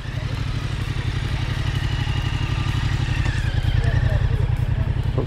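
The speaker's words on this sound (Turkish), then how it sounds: "Çok güzel motor abi." A Yamaha Tracer 700 motorcycle idles nearby with a steady low, pulsing engine rumble that holds evenly throughout, with faint background noise from a dealership setting.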